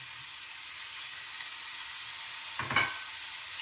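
Green beans sizzle gently in a pan as curry is added, with a low steady frying hiss and then a brief louder burst of sizzling and stirring near the end, fairly faint overall with no voices.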